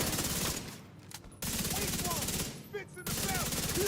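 Rapid bursts of automatic gunfire in The Division 2, loud and close, arriving in two dense stretches separated by brief quieter gaps filled with faint game effects.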